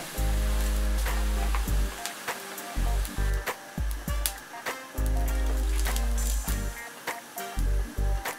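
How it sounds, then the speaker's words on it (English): Rice noodles frying in hot oil in a small batch, giving a loud, steady, close sizzling hiss with brief dips and surges as the strands crackle. "Fry the noodles in small quantities so that they can fry homogeneously"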